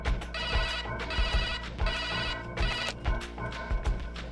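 A telephone rings at a ship management office in Dubai, a repeated electronic ringtone pattern in steady bursts, loud and continuous over a dense background with no talk.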